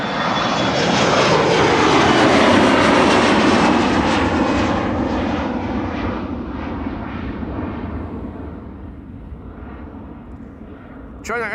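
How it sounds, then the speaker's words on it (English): A fixed-wing airliner's engines roar past at Amsterdam Schiphol Airport, a loud broad rumble that swells early and slowly fades as the aircraft moves away, with a voice talking over it. "Another good looking airplane coming our way."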